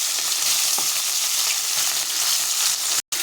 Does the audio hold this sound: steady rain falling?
no